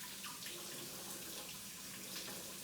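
Hot water runs from a kitchen tap in a steady, soft splashing stream while a cake pan is warmed, faint and continuous with no talking.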